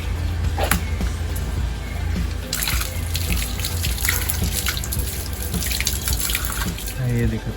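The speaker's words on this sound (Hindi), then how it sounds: "ऐसे ही धोते हैं बेटा हाथ, ऊपर तक ले ले, ऊपर तक साबुन लगा।" A child washes their hands with soap under a running tap at a home sink. Water gushes steadily, loud and close, with splashing and dripping throughout, while an adult speaks over it.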